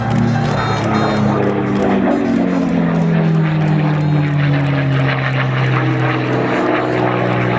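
A P-51 Mustang propeller fighter with its piston aircraft engine drones loud and steady overhead, its pitch sliding gradually downward as it passes, with faint crowd noise beneath.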